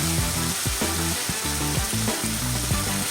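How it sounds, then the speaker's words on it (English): Ground beef seasoned with pepper, garlic powder, onion powder and adobo all-purpose seasoning fries in a pan with a loud, steady, close sizzle and faint stirring scrapes, with no talking. "cook it until everything is well combined and all your ground beef is brown"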